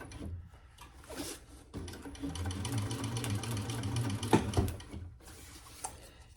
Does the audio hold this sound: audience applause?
no